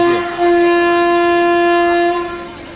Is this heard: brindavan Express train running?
yes